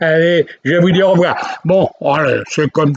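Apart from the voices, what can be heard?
No everyday noise stands out behind the speech.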